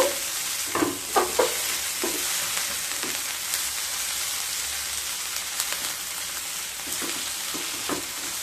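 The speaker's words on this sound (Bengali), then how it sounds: "খুব ভালোভাবে মিশিয়ে নেব" Grated radish chechki being stirred with ghee in a pan, a soft steady sizzle with scattered scraping spoon strokes against the metal, fairly quiet and close, no talk.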